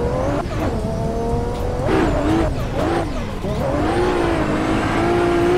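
A drifting car in the Assetto Corsa racing game holds a loud engine drone with shifting pitch and tire squeal through the corner. It is close and continuous.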